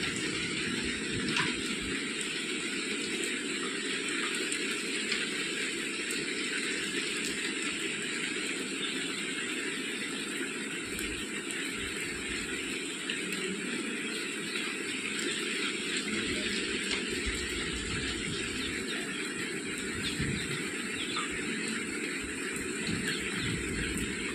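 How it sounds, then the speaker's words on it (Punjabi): Heavy evening rain pours steadily outside a home in Punjab, a dense, unbroken hiss of rainfall that stays constant and fairly close throughout. "ਮੀਂਹ ਦੇਖੋ ਕਿੰਨਾ ਤੇਜ਼ ਹੋਇਆ ਪਿਆ"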